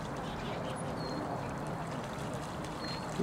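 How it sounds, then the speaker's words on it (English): Geese honk and quack faintly in the distance over a steady wash of outdoor background noise. "Because there's a lot of geese today."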